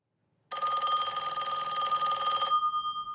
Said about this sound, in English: That's when a phone call rips through her dreams and shatters them.